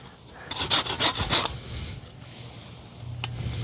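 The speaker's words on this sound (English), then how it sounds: "I began to make the notches for the bowstring." A file cuts bowstring notches into the tip of a wooden bow. A burst of quick, rasping close strokes comes first, then quieter scraping, then a short final rub.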